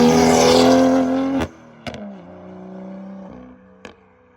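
Tuned BMW N55 engine, a loud close revving exhaust that cuts off into sharp crackling pops and braps, then settles to a rumbling idle with another pop near the end.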